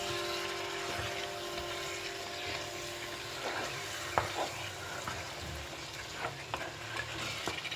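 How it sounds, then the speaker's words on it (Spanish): Lamb in a pan being stirred with a seasoning paste for a traditional Peruvian seco de cordero stew, with a steady sizzle of frying and scraping, clacking spoon strokes recurring throughout. "Vamos a mezclar con este delicioso aderezo, que se mezclen los aromas junto con los aromas que ha cogido la carne con la maceración"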